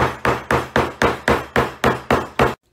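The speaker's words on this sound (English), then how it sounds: "The hammer I'm going to be using is a hammer specific to shoemaking. It's called a French hammer." French shoemaking hammer striking leather on a boot, ten sharp, evenly spaced blows in a steady rhythm, close and loud, then silence.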